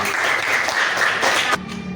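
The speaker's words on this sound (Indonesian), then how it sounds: "Tepuk tangan." Schoolchildren clapping in a classroom for a classmate, a brief burst of quick clapping that cuts off abruptly near the end, leaving quieter room noise.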